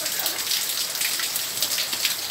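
Steady, dense rain pattering nearby on hard surfaces as a pet parrot bathes outdoors in the downpour, a continuous hiss with no voices over it.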